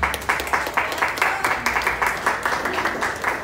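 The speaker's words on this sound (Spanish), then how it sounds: "Fuerte palmas, fuerte palmas." Applause during a wedding ceremony, a steady round of many hands clapping with rhythmic pulses, fairly loud and close, continuing evenly for the whole stretch without voices over it.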